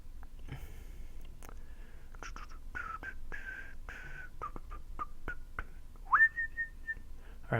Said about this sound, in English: Alright, I'll stop whistling.